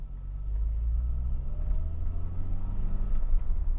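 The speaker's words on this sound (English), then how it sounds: "The whole car kind of rattles when you hit a bit of a bump or go through a dip." Original Volkswagen Golf GTI with a 5-speed gearbox and firm ride, heard from inside as a steady low engine and road rumble with faint knocks and rattles over bumps and dips.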